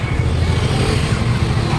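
Road traffic on the busy Kalpakkam bazaar street during Diwali sweet shopping, with cars and motorcycles rumbling and revving up close, loud and continuous for a moment.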